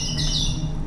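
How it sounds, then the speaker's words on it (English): A Kimball organ's bird-chirp effect, made by air gurgling through oil in a chrome teacup, gives a continuous warbling, twittering whistle over a steady low organ hum. "I can send air through that pipe and gurgle the oil inside, and suddenly there's a nice bird chirp going on."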